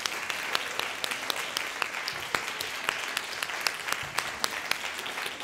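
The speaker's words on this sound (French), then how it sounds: "On vous applaudit bien fort." Loud, sustained applause from an audience at a children's storytelling award ceremony, with many crisp individual claps ringing out close by.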